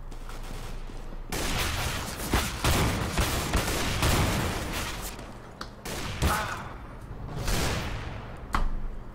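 Rapid bursts of gunfire from a video game crackle in dense volleys with short gaps between them, loud and close, with no talking during the shots.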